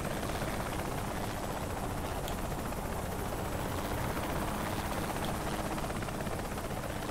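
Helicopter in the video game Saints Row The Third, a steady, loud broadband rotor roar that holds constant throughout with no speech over it.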